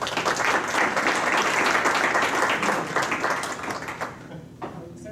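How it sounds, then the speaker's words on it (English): Applause from the audience at an evening Board of Education meeting, a steady wash of many hands clapping that thins out and fades over the last second. "Let's give him a round of applause"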